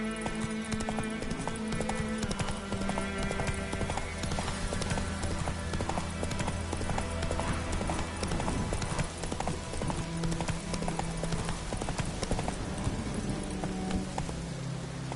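Roach, a horse in the Witcher 3 video game, gallops with a rapid, steady clatter of hooves over continuous game ambience and music, close and sustained throughout.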